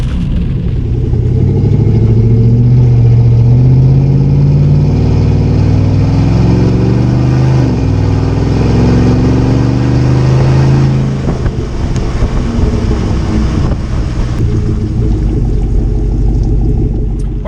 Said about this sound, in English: When we get to around 50, the tire noise almost overtakes the exhaust, but it sounds good.